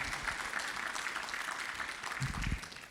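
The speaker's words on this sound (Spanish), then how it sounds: "dele un aplauso al Señor" Church congregation clapping in praise to the Lord, a steady wash of applause throughout with a low thump or voice rising near the end.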